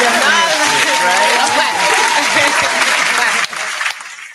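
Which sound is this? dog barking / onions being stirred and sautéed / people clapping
people clapping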